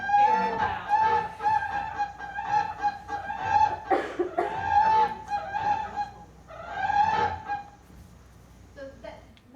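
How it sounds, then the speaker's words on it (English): A pair of whooping cranes gives loud, honking calls in repeated bursts, the two birds' voices overlapping in a ringing duet that is close and strong throughout. "So what you're hearing there is a pair of whoopers,"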